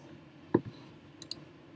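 A computer mouse clicks twice while opening a background-removal website, one soft click followed by a closer pair of sharp ticks, with no talk.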